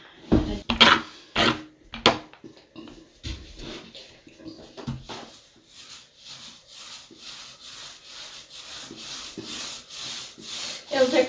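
Paint roller rolling paint onto pantry doors, a steady soft rubbing swish repeated in strokes, close and fairly quiet, with a few sharper knocks early on.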